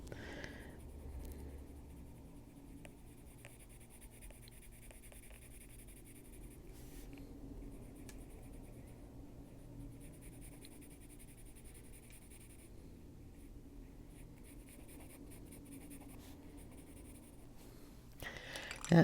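A raw umber coloured pencil scratches softly across paper in short, repeated strokes, faint and close, with quiet pauses between bursts of shading.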